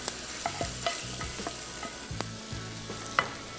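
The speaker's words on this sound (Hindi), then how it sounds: "बस इसको मिक्स किया और ये तैयार हो गए पाए" Cooked paya (goat or lamb trotters) stirred in a pan, a spoon scraping and clacking against the metal in a quick uneven rhythm, soft sizzling beneath, close and fairly quiet with no talking.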